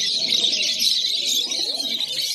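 Pigeons coo softly and repeatedly at a crowded pigeon market in Uluberia, Howrah, among fancy breeds with feathered feet, over a steady, hissing market din.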